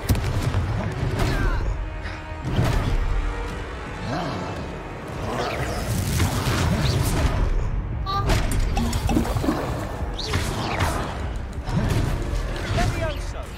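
Confringo spell blasts in the Hogwarts Legacy video game, a series of loud fiery bursts and booms repeating over busy combat noise, with a voice talking throughout.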